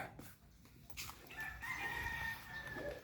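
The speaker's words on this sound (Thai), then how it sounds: "อันนี้ก็เป็นไก่ป่าครับ" A junglefowl crows in a drawn-out call, fairly distant and alone, with faint outdoor rustle around it, at a temple in Nong Bua Lamphu, Thailand.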